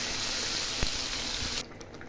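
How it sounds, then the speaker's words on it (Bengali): Water poured into a pan of frying curry spices with potato, a steady broadband rush and hiss that runs close and continuous for most of the moment, then cuts off sharply near the end, leaving quieter faint sizzling. "মশলাটা হয়ে গেছে ভাজা। এখন একটু জল দিয়ে দিলাম।"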